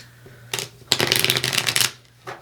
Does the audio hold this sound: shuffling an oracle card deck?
yes